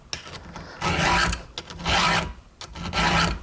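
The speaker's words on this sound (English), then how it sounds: "I'll just take a few strokes here on each tooth. This chain is actually pretty hard." Hand file sharpening the teeth of a vintage Remington PL-4 chainsaw chain, with close, loud rasping strokes in a steady rhythm of about three long scrapes separated by short pauses.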